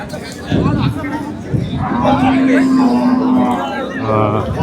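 Cattle low at the crowded Manapparai cattle market, a long steady moo rising over background chatter, with someone speaking close by.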